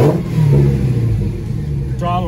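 A 2020 Dodge Challenger Hellcat RedEye Widebody engine revs up and holds a loud, deep throttle blip close by, with a person talking over it.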